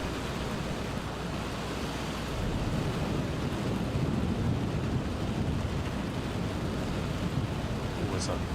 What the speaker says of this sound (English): This rain is not playing around right now